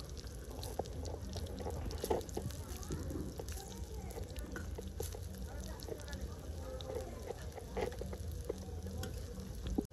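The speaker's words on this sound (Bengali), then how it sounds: "ফুলের বড়াগুলো এক পিঠ ভাজা হয়ে এসেছে, আমি আস্তে আস্তে আরেক পিঠ উল্টিয়ে দিব।" Drumstick flower (sajne phool) fritters frying in hot oil, a steady dense crackling sizzle running the whole time at moderate loudness, with a voice talking over it.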